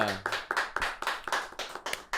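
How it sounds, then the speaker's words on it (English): About four people in a small studio give a quick burst of rhythmic clapping, roughly a dozen sharp claps with no talking. "It sounds like a lot of claps, actually."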